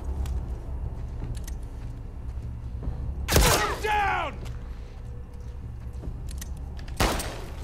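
Gunshots ring out in the survival action game The Last of Us Part II, with a loud close blast followed by a resonant ringing tail and a second sharp shot later, amid quiet ambience and occasional voices.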